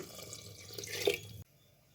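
Water splashes and gurgles as it is poured into a pan of sardine curry with mango for under a second, then cuts off into near silence.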